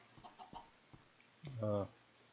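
A Minecraft chicken gives a short clucking call, loud and close, after a few soft background noises and murmured talk.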